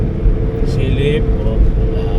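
Road traffic on a rural Philippine highway lined with coconut trees, an engine rumble droning steadily throughout as an oncoming truck approaches, with a person talking over the noise.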